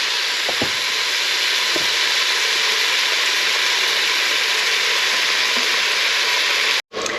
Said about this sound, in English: I'm just going to carry on with this until that's all nicely browned